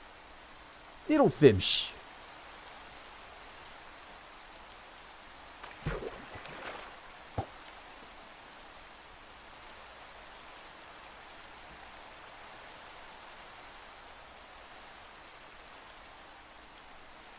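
Steady, soft rain patters in Minecraft as a constant hiss throughout, with someone speaking briefly near the start and a few small clicks later.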